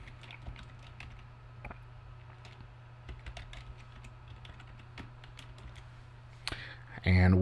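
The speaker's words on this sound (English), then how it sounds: "So my password, I'll type in." Someone types a router admin password on a computer keyboard, with light, fairly quiet keystrokes pattering in an irregular run over a steady low hum, and a louder click at the very end.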